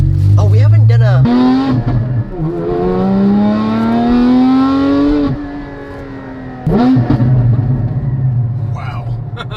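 A Tesla Model S out on a test drive after a wheel alignment, with loud rising and falling drive and road noise in the cabin, a strong whine climbing in pitch, brief surges between, and no talk over it.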